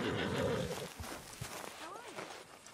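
A horse neighs in Red Dead Redemption 2, a short, faint whinny that rises and falls, heard under a player's talk with low background game sound.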